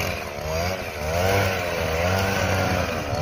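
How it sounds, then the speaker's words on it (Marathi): A petrol grass cutter machine drones steadily while cutting grass outdoors, its two-stroke engine close and loud, rising and easing slightly in pitch with a continuous buzzing whine. "याला ग्रास कटर म्हणतात"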